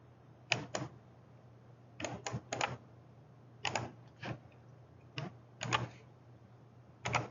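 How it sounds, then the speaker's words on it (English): Computer keyboard keys struck in short clustered bursts of two or three sharp clacks separated by pauses, close and fairly clear over a low steady hum. No one talks. "I'm hitting the keyboard trying to work."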